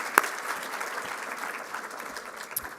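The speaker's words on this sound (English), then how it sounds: "let's have a round of applause for all of you" Audience applause at a national mentoring summit plenary session, a brief burst of steady clapping from a crowd, moderately faint and even throughout.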